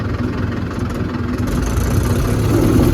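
A tractor engine rumbles steadily along a rain-damaged farm road past cotton fields, a low continuous drone that grows slightly louder toward the end as it draws nearer.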